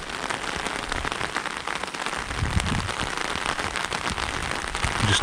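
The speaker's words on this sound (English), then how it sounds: "That's a nice summer downpour we have." A summer downpour of rain pounds steadily at a garage build site during groundworks for the foundations, a dense, even hiss of drops that continues throughout without any talking.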